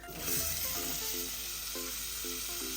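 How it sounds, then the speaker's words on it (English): Onions sautéing in melted margarine in a pot, a soft steady sizzle with faint crackle running throughout, with a low musical backing underneath and no talking. "I'm just going to let the onions saute a little bit before I add the sausages"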